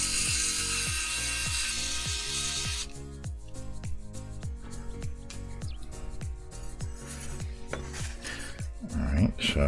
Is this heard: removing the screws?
yes